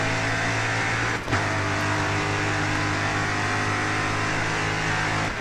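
Super Ute race truck engine in the GRID Autosport racing game, a loud sustained engine drone held at a steady pitch with a brief dip near the start, no voices.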